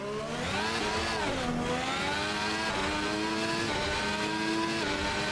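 A race car engine in the racing sim Assetto Corsa Evo, apparently at Monza, revs loud and close, its pitch climbing through the gears with brief dips at each shift, then holding a steady high whine.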